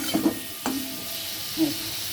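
Potatoes fry in a little oil with turmeric, giving a continuous close sizzle, while a spatula scrapes and knocks against the pan in a few short strokes.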